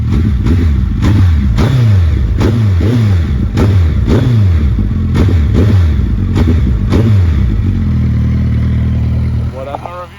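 A 2019 Suzuki Hayabusa with a Yoshimura R77 exhaust is revved hard about eight times in quick succession, each rise and drop loud and close, then settles into a rumbling idle.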